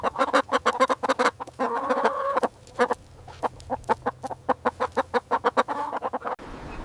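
A chicken clucks in a rapid run of sharp, close, loud clucks, pausing briefly before another quick burst of repeated calls, with a low murmur of farmyard background beneath.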